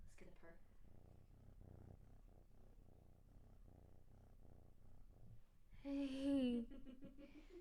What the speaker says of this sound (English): And he's purring.